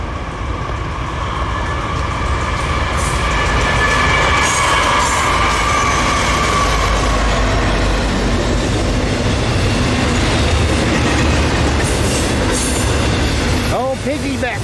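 A westbound intermodal freight train carrying piggyback trailers and containers rumbles past beneath a bridge, a loud, continuous roar of wheels and rail noise with faint wheel squeal, while someone talks over it.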